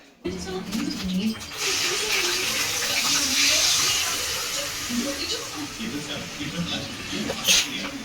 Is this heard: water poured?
yes